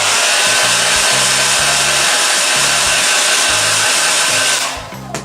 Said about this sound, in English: I heat it up with my hairdryer